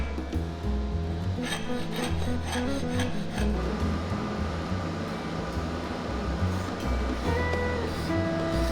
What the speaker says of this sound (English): I even got a chance to try the scrapers on the backside.